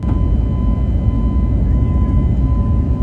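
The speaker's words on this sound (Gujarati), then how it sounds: "સાંજે 5 વાગ્યાની આસપાસ અમારી ઇન્ડિગોની ફ્લાઇટે અમદાવાદ એરપોર્ટથી ટેક ઓફ કર્યું." IndiGo passenger plane taking off from Ahmedabad airport, heard from inside the cabin as a loud, steady low roar of engines with a faint hum, continuous over three seconds.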